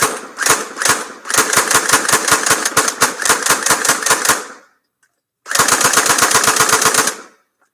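An airsoft gun fires rapid bursts of sharp, crisp shots, a quick rattling run, a pause, then another sustained burst, loud and close with no talk.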